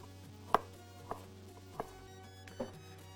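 A knife slices through a peeled vegetable for chicken seafood paella, four separate cuts against a board spaced about half a second apart, each a sharp close knock over a low steady hum.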